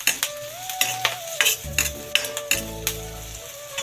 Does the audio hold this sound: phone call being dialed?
no